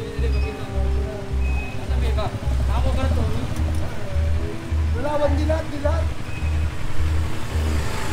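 Tow truck reversing during a street clearing operation, its regular loud backup beeps pulsing steadily under engine noise, with people talking nearby.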